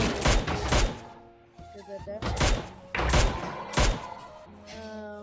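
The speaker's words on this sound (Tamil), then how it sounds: "நான் மினி 14 வச்சு நம்ம ஷூட் பண்ணுவோம்" Mini 14 rifle firing in a modded Minecraft game, a few loud punchy shots in bursts with short gaps between them, mixed with game effects and some tonal ringing.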